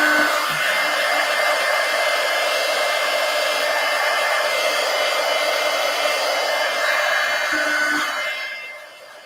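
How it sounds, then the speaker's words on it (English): A handheld heat gun blows steadily and loudly while drying paper pages for a craft project, a continuous close whooshing roar that tapers off at the end. "Heat gun."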